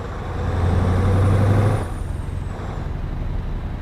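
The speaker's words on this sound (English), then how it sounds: "I guarantee that some people in chat prefer this engine sound over the big noisy ones" A Scania truck in Euro Truck Simulator 2 holds a low, steady engine drone, rising slightly before easing off, and a sharp air brake hiss sounds partway through.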